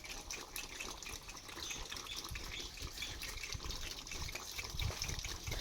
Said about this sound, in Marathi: तिकडं पाणी चाललंय ती बंद कर की